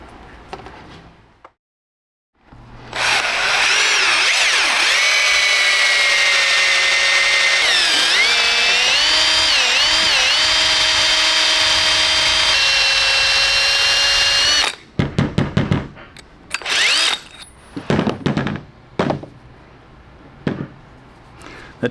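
Power drill with a 7/8 inch unibit reaming out a coilover bump stop on an NSX, whining loudly and steadily for about twelve seconds with pitch dips under load, then stopping into a series of short clanks and bursts.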